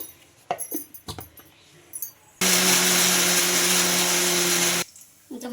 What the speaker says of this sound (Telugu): ఇంకా వేసేసుకొని గ్రైండ్ చేసుకుందాం